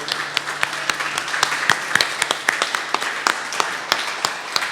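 A church congregation claps after a prayer, a steady crowd applause punctuated by sharp, distinct nearby hand claps at irregular intervals.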